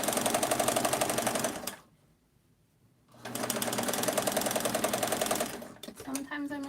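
A sewing machine runs in steady rapid stitching bursts at close range, pausing for about a second before resuming, then stopping briefly near the end.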